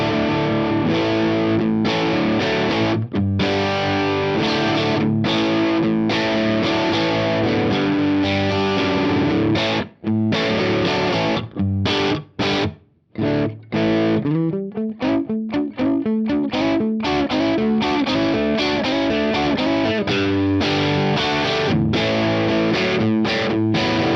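Heavily distorted PRS electric guitar through a tube amp, chugging and riffing loudly and continuously, with a few brief gaps and stops midway before the crunchy playing resumes.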